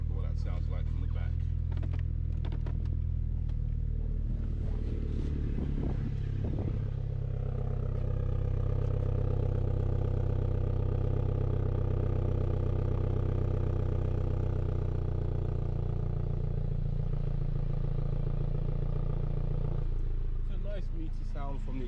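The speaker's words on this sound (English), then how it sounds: "Sound from the exhaust as well." A 2017 MINI John Cooper Works engine idles steadily with a low, rumbling exhaust note, heard from the rear, with a few clicks and handling noises at the start and end.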